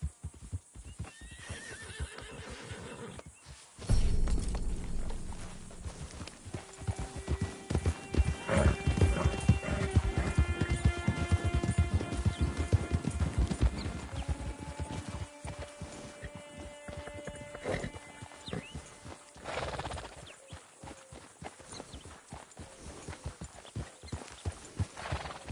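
Horse hooves clip-clopping in Red Dead Redemption 2, an irregular hoof rhythm with a loud whinny, heavy thuds and snorts, and a musical score and ambient game sounds playing beneath.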